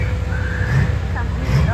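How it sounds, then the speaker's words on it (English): A tractor-pull machine's engine rumbles in the background at an outdoor tractor pull, a low, race-car-like growl partly buried under nearby people chatting. "This one sounds like a race car. Sounds mean too."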